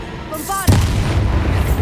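A Bombarda blast spell from the Hogwarts Legacy video game detonates with a loud, sudden boom that rumbles on for over a second, preceded by a short burst of a voice and whooshing effects.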